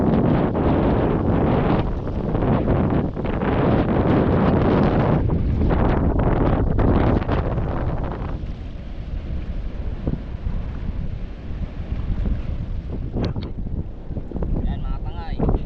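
Strong northeast monsoon wind (amihan) sweeping over open water from a boat, a loud, continuous buffeting roar against the microphone that eases slightly midway, with voices faintly mixed in.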